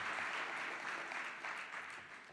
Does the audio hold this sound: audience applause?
yes